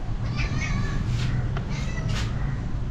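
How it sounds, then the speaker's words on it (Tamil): Several cat meows rise above a constant low background hum in a coastal Kenyan town, coming as separate calls spread across a few seconds. "இந்த ஊரில் நிறைய பூனை இருக்குங்க."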